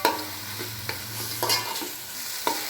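Mushroom mixture with chopped mint and coriander frying in a pan, a close sizzle punctuated by four or five quick spatula scrapes and knocks, no voices.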